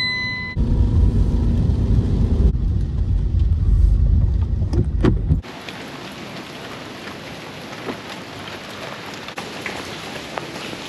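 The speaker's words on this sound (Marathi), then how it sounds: "दाखव जरा पाऊस बाहेरचा" Rain falls outside a car, first as a loud, dense patter for several seconds, then as a quieter, steady hiss with scattered drops.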